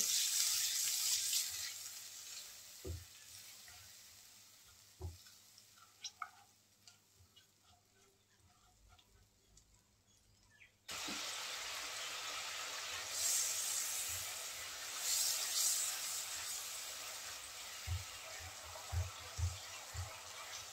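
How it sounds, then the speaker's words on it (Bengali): Spice paste of ground coriander, cumin, turmeric, chili and salt is sautéed in a pan for a bitter gourd fish curry. Scattered ticks and clicks over a quiet stretch give way to a steady broadband sizzle with occasional spits and pops. "মশলাটাকে একটু কষিয়ে নেব।"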